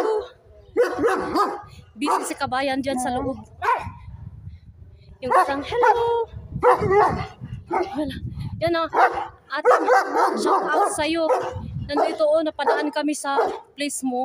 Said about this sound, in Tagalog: medyo maldito na aso